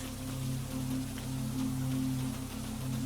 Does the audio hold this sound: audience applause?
no